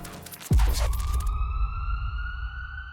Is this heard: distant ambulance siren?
yes